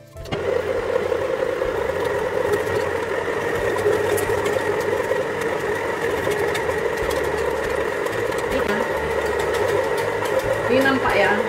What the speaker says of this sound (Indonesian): Nah sekarang udah bisa kita mulai mencincang dagingnya ya.